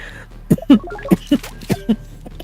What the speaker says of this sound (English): I'm not trying to cough into the microphone